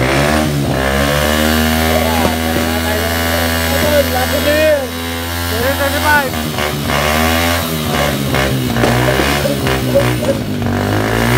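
A loud motorcycle engine runs near a New Year celebration, revving continuously with rising and falling pitch as bikes circle close by. Voices can be heard faintly beneath it.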